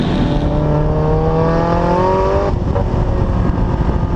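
Loud, close engine noise as a Nissan 240SX accelerates hard, the pitch rising steadily before dropping at a shift and droning on.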